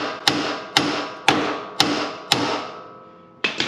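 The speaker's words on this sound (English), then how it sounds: "We're going to give that a bit of a whack." Five sharp, loud hammer blows land at a steady rhythm on a steel ball joint of a Ford Ranger's front suspension during a lift kit install, each ringing briefly, then a pause and a sixth strike.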